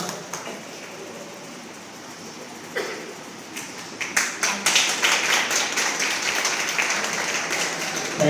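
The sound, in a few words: audience applause at an award ceremony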